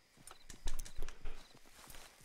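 Horse hooves in the Red Dead Redemption 2 video game, a short burst of several close clip-clop steps in an uneven rhythm, fairly quiet and heard alone.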